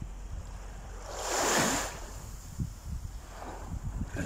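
Waves of the Caspian Sea rolling in with one big surging swell that rises and washes away, then smaller splashes and lapping water close by, buffeted by wind noise on the microphone.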